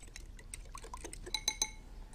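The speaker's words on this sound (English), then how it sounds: "Give it a good old whisk." A whisk clinking against a bowl while egg and milk mixture is beaten, light irregular metallic taps and chinks, close and fairly quiet, a few brighter ringing hits toward the end.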